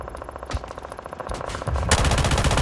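Rapid automatic gunfire from a shooting video game, loud and sustained, with sparse shots at first building into a dense, continuous burst in the second half.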